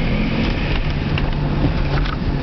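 A car driving in first gear, a steady low engine drone with road and wind rumble heard from inside the cabin, constant in level throughout with no talking.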